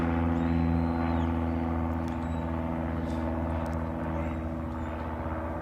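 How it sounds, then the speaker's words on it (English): Airplanes on test runs near Afton airport create a loud, continuous engine drone with a steady tone that hangs over an outdoor cattle sorting competition, with no pauses throughout. "You're going to hear a lot of airplane noise during our run."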